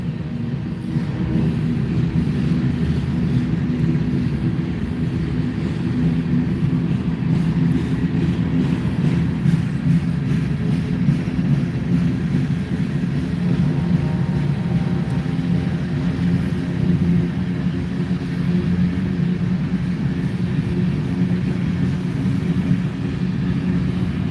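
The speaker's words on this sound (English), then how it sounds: "We'll get a really nice look at the pusher engine on back." A freight train rolls past at close range at Lind, Washington, with a pusher locomotive at the rear: a steady heavy rumble and clatter of wheels that holds for the whole stretch, with no talking.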